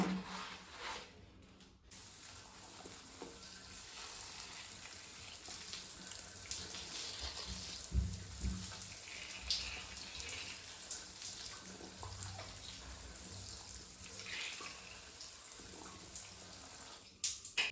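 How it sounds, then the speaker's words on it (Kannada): Water runs from a rust-cleaned kitchen tap into a sink in a steady, faint splashing stream that continues for most of the stretch after a short pause at the start. "ನಾವು ಇಲ್ಲಿಗ ನೀರು ಹಾಕಿ ಕ್ಲೀನ್ ಮಾಡಿ ನೋಡುವ"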